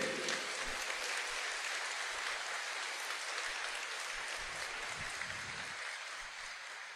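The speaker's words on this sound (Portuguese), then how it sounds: "Pode dar uma salva de palmas para Ele." Congregation applause at an evening Mass on the Third Sunday of Lent, a soft, steady wash of clapping heard at a distance and tapering slightly toward the end.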